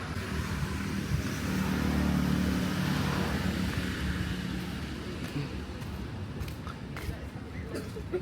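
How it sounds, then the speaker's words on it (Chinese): A motorcycle rides through city streets at night in the ancient Vietnamese town of Hoa Lu, giving a steady, close engine and wind rumble mixed with surrounding traffic noise. "骑着摩托车在市区里转了一圈啊"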